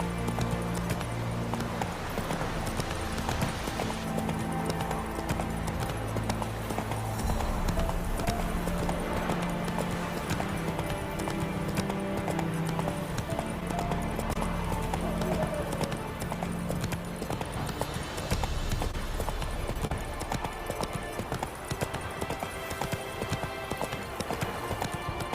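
Roach the horse gallops in The Witcher 3, a steady clip-clop of hooves running continuously under dense game music, with an occasional whinny.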